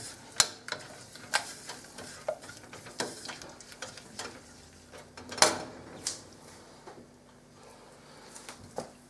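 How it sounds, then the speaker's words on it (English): Flour being stirred into melted butter in a pan for a lasagne sauce, with light scraping and irregular sharp clicks and taps of a utensil against the pan, close and fairly quiet. "we're just going to add in the flour and mix that until it's all thick"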